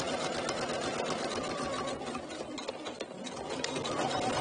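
A sewing machine stitches steadily around an inward-facing corner of fabric, its dense mechanical whir running close and continuous with only a brief slowdown partway through.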